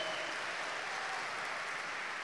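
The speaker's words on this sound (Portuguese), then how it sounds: "aplauda o Senhor" A church congregation applauds during a worship service, a dense, continuous wash of clapping that stays even and fairly soft throughout.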